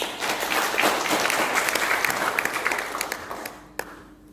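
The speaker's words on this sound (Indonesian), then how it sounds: "Tepuk tangan." Audience applause at a closing ceremony for a regional training event, a dense round of clapping that builds quickly, holds, then thins to a few scattered claps and fades near the end.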